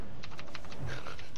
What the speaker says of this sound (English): I'm like typing like mid-fight.